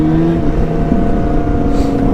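A Yamaha Fazer 600 motorcycle, heard from behind, runs loud and close through aftermarket exhausts. Its deep throbbing engine note is steady, with a slight rise in revs.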